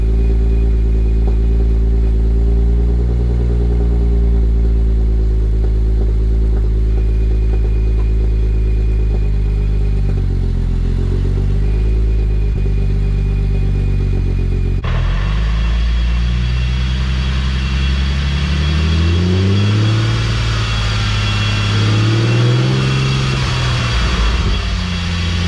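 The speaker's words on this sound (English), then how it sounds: "So let's get the car started." A single-turbo BMW N54 engine idles with a steady low drone, then partway through bursts into louder, harsher revving, its pitch swinging up and down in several close, sustained pulls.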